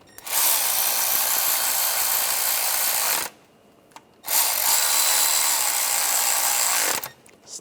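A power ratchet or drill tool snugs down water pump bolts on a 2009-2013 BMW 328i xDrive 3.0L inline-six, two loud whirring bursts of several seconds separated by a short pause.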